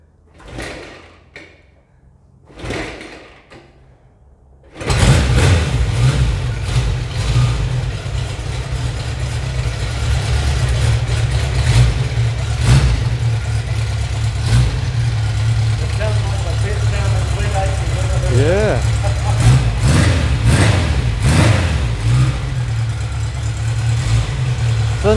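Vintage motorbike in a museum collection kicks into life after a couple of quiet attempts, then runs loudly and steadily, its engine note rising slightly toward the end.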